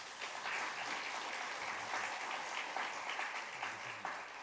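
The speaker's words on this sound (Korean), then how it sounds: "먼저 박수 한번 하겠습니다" A seated congregation at a university chapel service applauds to welcome a visiting pastor, a steady, even wash of many hands clapping at moderate distance.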